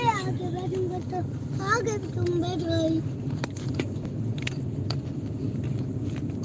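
Steady low engine rumble and road noise from a car being driven, continuous throughout with a child's and adults' voices talking over it during the first half.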